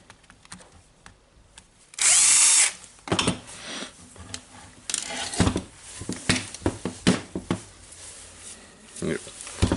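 A power drill whirs in one short, loud burst while removing screws from a Makita DDF484 cordless drill under repair, followed by close clicks and clatter of handled parts and a voice speaking.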